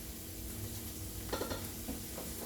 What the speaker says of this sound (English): we are going to stir it up really good